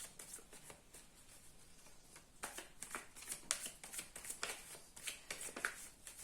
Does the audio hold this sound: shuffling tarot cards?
yes